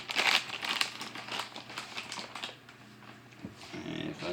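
A plastic packet of butterscotch chips is torn and crinkled open in a hotel room kitchen, giving irregular crackling rustles at close range and low volume with light handling noises.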